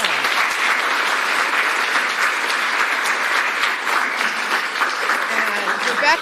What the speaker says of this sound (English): Let's give a round of applause for Rebecca.